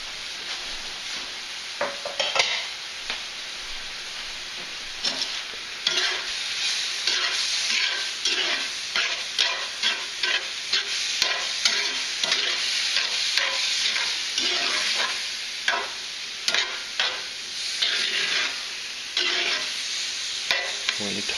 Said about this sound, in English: So we'll throw those all in the pan together.